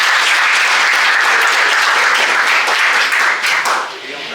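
Loud, dense clapping from a seated audience welcoming a speaker to a civil-service exam talk, holding steady and then thinning slightly at the end.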